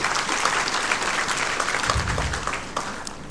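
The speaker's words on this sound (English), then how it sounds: "wide applause for all of you who have made it through" A ceremony audience applauds medical students at a White Coat Ceremony, the clapping broad and sustained throughout, with a brief low thump near the middle.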